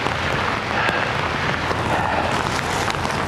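Rain falls steadily across a downtown waterfront street, a dense, even wash of close pattering on hard surfaces that holds at the same loudness throughout, with no voices.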